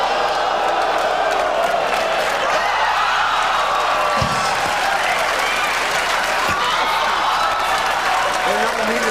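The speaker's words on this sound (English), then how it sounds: "The crowd explodes." A talk show studio audience erupts in loud, sustained applause mixed with cheering and whoops, a thick roaring crowd sound with no letup.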